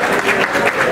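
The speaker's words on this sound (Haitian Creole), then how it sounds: "et maintenant nous avons applaudissements pour Compas Festival" Audience clapping steadily at a Compas Festival press conference, a dense, close burst of applause with no voices over it.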